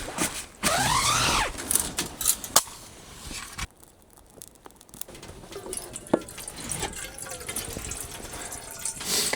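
Water being fetched and poured for boiling potatoes at an off-grid cabin, with a splashing pour and filling sound up front, then quieter drips, clinks and handling noises nearby.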